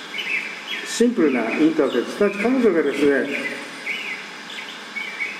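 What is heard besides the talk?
birdsong played from music bottle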